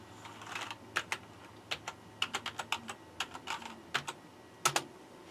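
Someone types an administrator password on a computer keyboard: close, crisp individual key clicks in an uneven burst of about twenty presses, with a faint hum underneath.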